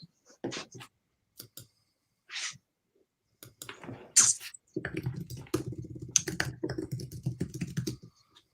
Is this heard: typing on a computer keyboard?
yes